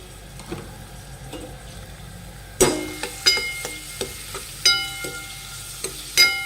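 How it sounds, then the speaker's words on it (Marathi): Red onions with salt sizzle steadily in hot oil in a pan for Mumbai street-style pav bhaji, while a spoon stirs them with sharp, repeated scraping clacks, close and clear. "लाल कांदे आपले छान फ्राय झालेले"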